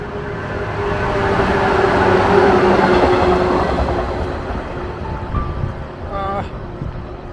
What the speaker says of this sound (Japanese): 最終列車かな